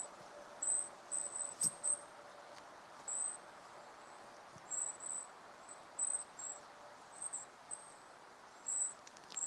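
Long-tailed tits in a dark woodland give repeated very high, thin, loud calls in short bursts over steady insect-like background hiss.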